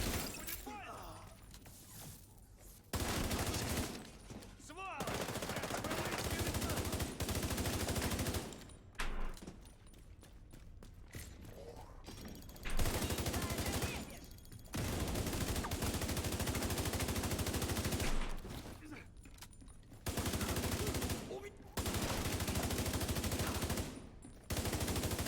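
Bursts of rapid gunfire in the video game The Division 2 with shattering impacts come in repeated bursts separated by brief quieter gaps, with some talk underneath.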